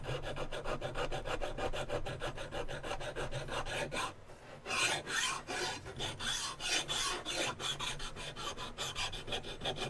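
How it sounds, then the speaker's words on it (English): Steady rhythmic rasping of a metal file scraping back and forth across a knife's surface, removing its original texture, close and continuous, with a brief pause midway. "I'm also just using a file right now just to get rid of the original texture"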